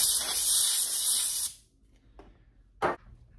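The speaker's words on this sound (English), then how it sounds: "then you get your compressed air and you just shoot it in there" Compressed air blasts into the clamp of a racquet stringing machine as a loud, close, steady hiss for about a second and a half, then stops, followed by a short second burst.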